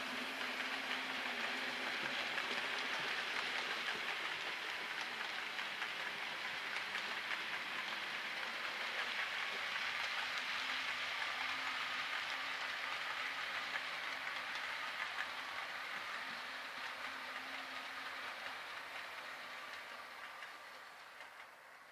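A Hornby Merchant Navy Class 4-6-2 model locomotive, SR 'Channel Packet' 21C1, hauls a rake of eight coaches around curves of model track, giving a steady soft rolling whir and faint clatter that fades slightly toward the end.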